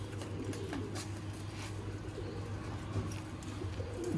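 Rare Sialkoti breeder pigeons coo softly in their loft, a low repeated hum-like call that continues steadily beneath faint background noise, with no voices.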